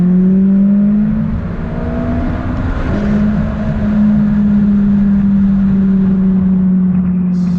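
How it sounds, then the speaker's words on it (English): A loud stock supercar engine drones and revs, pitch rising and falling as it accelerates, with wind rush in the background. "we all want to hear the engine"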